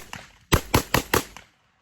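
A new gun fired at a shooting range, four sharp loud reports in quick succession, close by, each followed by a short ring-out, after a fainter earlier pop.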